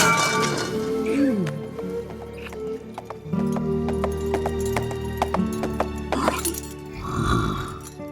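Horse hooves clip-clop in a steady run of sharp clicks from the animated film The Road to El Dorado, set against a musical score with a brief whinny-like cry early on and a busier swell near the end.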